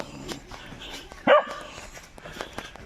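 Dogs bark a few times at a distance, with one sharper, louder bark in the middle amid outdoor background noise.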